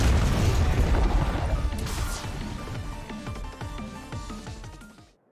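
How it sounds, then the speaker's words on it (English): A loud explosion booms in the video game Scarlet Nexus, a heavy blast that rumbles and crackles as scattered debris and impacts clatter and fade out over several seconds, with no talking. "Explosion?"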